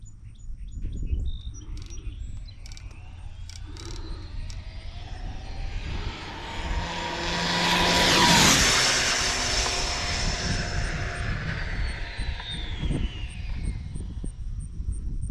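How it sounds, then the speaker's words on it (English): An Arrma Mojave EXB 8S RC car makes a speed run pass, its high-pitched motor whine rising and sweeping by with a Doppler shift, loudest at the midpoint, then fading away. "Arrma Mojave 8S pass, pass number 2."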